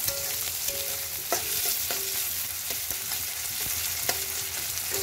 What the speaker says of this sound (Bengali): দেখুন পেঁয়াজটা একটু নাড়াচাড়া দিলাম